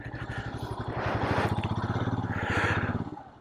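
A motorcycle engine idles and revs up close during a bike trip, a rapid chugging pulse that rises and falls in two swells, loud and steady with no voices.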